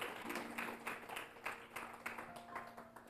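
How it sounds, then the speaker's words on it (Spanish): A church congregation claps together, quiet and somewhat distant, with steady rhythmic hand claps and faint voices under the applause. "Dale un aplauso a la que vive y reina"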